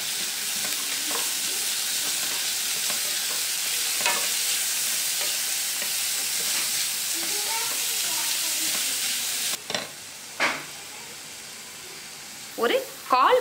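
Finely chopped onion fries with chana dal in a pan, sizzling continuously up close with intermittent scraping stir strokes and a few clinks, a voice speaking over it near the end.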